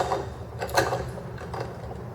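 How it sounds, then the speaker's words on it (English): A 19mm socket turns a flywheel nut on a Wacker Neuson engine, producing a few close metallic ratcheting clicks and a brief clank as the nut is loosened. "you're going to loosen that nut"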